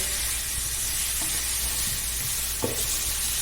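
Onions and masala frying in a pan for chicken biryani make a steady, dense sizzling hiss, with a couple of soft stirring scrapes partway through.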